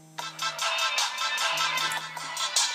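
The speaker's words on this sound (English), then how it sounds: "Phone's going off." A phone's ringtone sounds as a repeating series of bright electronic chime bursts, evenly pulsed and fairly close, with no one speaking.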